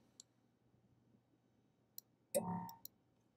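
Computer mouse clicking on a quiet desk, a few sharp, isolated clicks spaced irregularly, with one brief louder burst of sound in the middle.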